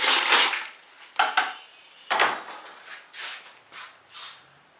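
A ceramic pot with a rolled rim is dipped into a bucket of glaze, giving a few close splashes and sloshing washes of liquid, then smaller drips and swirls that fade out.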